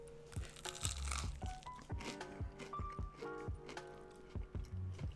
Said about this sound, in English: Can you hear that crunch? That's a nice tasting breaded outside.